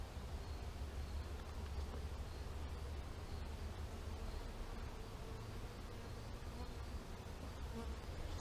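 Honeybees buzz at a top bar hive in a dense, steady drone that holds evenly throughout and is fairly faint overall.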